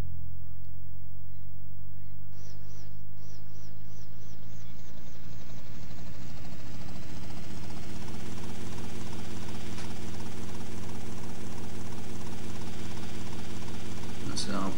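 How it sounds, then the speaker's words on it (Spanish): Helicopter in GTA Vice City on PS2, its engine whine rising steadily as the rotors spin up into a loud, continuous thrum, with someone speaking over it throughout. "aquí tenemos un helicóptero que lo voy a usar."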